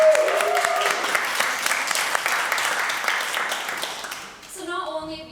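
Awards ceremony audience applauding at the Drum Search Awards 2022, a dense steady clatter of clapping that fades toward the end as a voice begins speaking over it.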